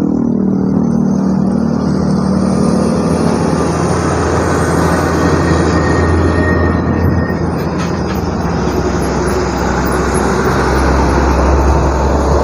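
A bus rolls over the Klonengan flyover amid continuous heavy roadway traffic, a dense steady roar of engines and tyres with a faint high whine, loud and unbroken throughout.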